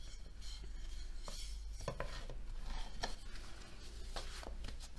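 A rolling pin working potato-filled velibah (Circassian börek) dough on a board, heard as faint, close, irregular taps, knocks and soft rubbing strokes in a quiet kitchen.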